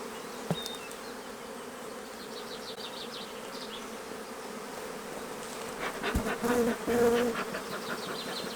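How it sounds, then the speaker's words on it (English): Honey bees buzz around an opened hive during a colony split into nucleus colonies, a steady close hum with individual bees flying past, swelling louder near the end. "So plenty of bees here"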